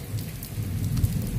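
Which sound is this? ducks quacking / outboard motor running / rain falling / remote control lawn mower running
rain falling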